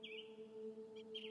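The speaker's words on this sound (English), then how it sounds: "You wake up to the sound of birds outside." Birds chirping outside in a video game, a few high sweeping chirps heard faintly over steady droning music tones.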